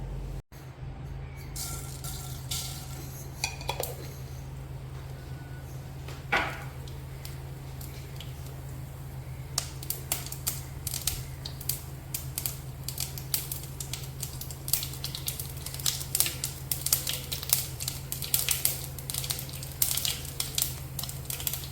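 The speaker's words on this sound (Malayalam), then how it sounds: "കടുക് പൊട്ടിക്കഴിയുമ്പോൾ നമുക്ക് ചെറിയ ഉള്ളി ഇട്ട് കൊടുക്കാം" Mustard seeds popping in hot oil in a pan, first as a low steady hiss, then as a dense, irregular run of sharp crackling pops that grows busier toward the end.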